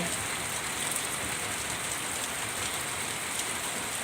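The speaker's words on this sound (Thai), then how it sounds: "เอาฝนมาฝากอีกเลยนะคะทุกคน" Steady rain pouring down onto surfaces outside, a loud, even, continuous hiss and patter with no pauses.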